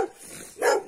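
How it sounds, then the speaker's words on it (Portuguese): A dog in the rural sertão at sunrise lets out a short bark, one clear mid-distance burst after a brief softer sound. "O cachorro tá me estranhando"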